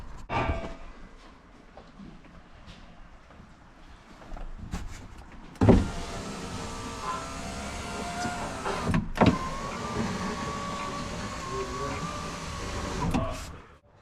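An electric window on a 1992 Vauxhall Cavalier runs on a newly fitted regulator, a steady motor whine with a few knocks, heard close up after a quieter start.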